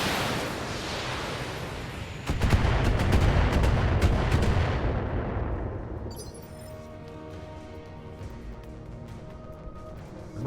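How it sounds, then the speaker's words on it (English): Long range missiles firing in the BattleTech video game: a dense barrage of rapid explosive launches and booms, loud and continuous for several seconds before thinning into a rumbling, fading tail with metallic clinks. "see if we can blow this striker away with our long range missiles"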